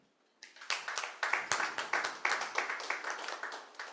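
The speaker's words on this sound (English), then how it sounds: "Can we clap for Nanzala?" An audience claps for a speaker at an agricultural gender-policy panel in Africa, quiet at first, then a moderate room of hands beating in a quick, fairly even rhythm that holds steady for several seconds.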